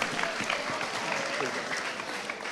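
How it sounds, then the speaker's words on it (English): Audience applause at a high school spoken word poetry event, a dense even burst of clapping from a crowd heard close and continuous throughout. "Let's give them a round of applause for the Taco Bell tragedy."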